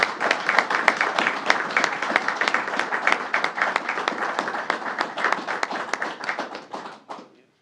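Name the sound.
audience applause for Lieutenant Young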